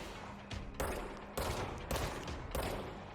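Gunfire in the video game Control comes in several quick, fairly quiet bursts of rapid shots, separated by short pauses.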